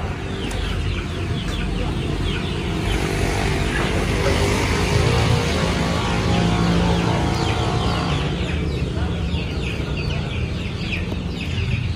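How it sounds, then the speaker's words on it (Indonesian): Chickens moving and clucking around a livestock pen at a small urban farm in Makassar, a steady dense chorus of close clucks over constant rustling and background noise. "Tuh, banyak ayam yang lompat-lompat dan ngintip."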